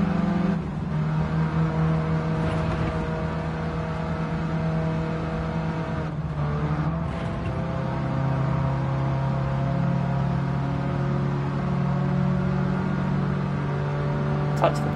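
A racing car engine in the Gran Turismo 7 video game holds a steady droning, harmonic whine with slight pitch shifts, loud and continuous for the whole stretch.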